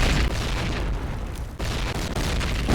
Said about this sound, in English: Nice spread of nades again.